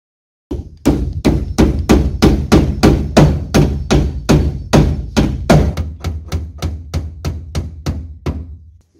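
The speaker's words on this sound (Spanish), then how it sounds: "Y lo vamos a proceder a clavar con el clavito." Small nails are hammered into a piece of furniture with a steady run of about twenty sharp, evenly spaced hammer blows, close and loud, with no talking.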